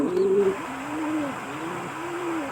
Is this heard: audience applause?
no